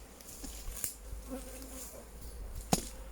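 Honey bees buzz faintly during a beehive inspection, a low, steady drone with a couple of sharp knocks from handling the frames.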